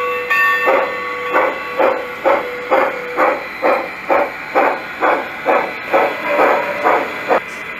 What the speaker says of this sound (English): we're going to give 2 toots of the whistle to go forwards